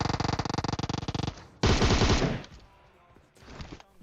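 Rapid automatic UZI fire in the mobile game PUBG Mobile, a fast burst of close shots, a pause, then a louder sustained spray tapering off, with a faint distant burst afterward.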